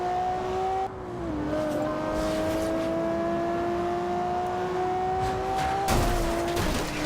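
A fast car from the Alpinestars car pack in Forza Horizon 2 accelerating on a speed run, its engine droning as a steady rising tone that shifts pitch at gear changes, with a burst of tire noise near the end.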